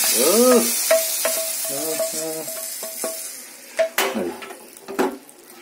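Ghee tempering being stirred into pappu chaaru, a Telugu lentil rasam, with a spoon scraping and clinking against the pot over a soft sizzle and a few louder knocks, near and alone with no talk.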